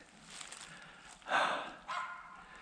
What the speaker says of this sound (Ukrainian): Позаду мене гавкають.